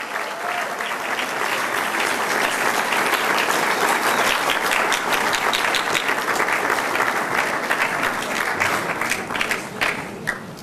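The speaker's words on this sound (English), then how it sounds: "let's have one final last round of applause for all of our athletes" A ceremony audience claps for student athletes at an awards night, sustained dense applause that holds steady for about ten seconds before it begins to thin out.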